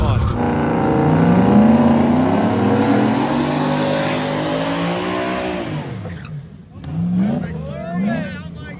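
A race car's engine revs hard at a drag race during a World Cup event. It roars loud and close for about six seconds, then drops away, with a brief voice near the end.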